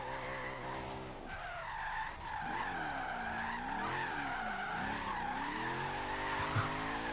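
Tires squeal continuously as a car drifts in Forza Horizon 3 racing, the screech wavering in pitch over steady engine roar for the whole stretch.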